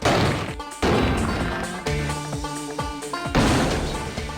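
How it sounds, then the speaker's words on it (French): An explosion smashes a torso dummy, several loud crashing blasts and heavy smashing impacts in quick succession, with ringing debris and rattling in between. "Ça, c'est une explosion."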